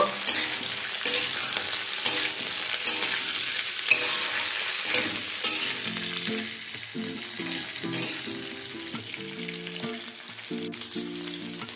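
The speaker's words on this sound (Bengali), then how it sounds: "এবার ফুলকপিটাকেও একটু হালকা করে ভেজে নেব।" Cauliflower frying in a pan alongside potato and carrot for a mixed vegetable curry, a close, continuous sizzle with frequent clattering stirs that ease off toward the end, faint tonal sounds underneath.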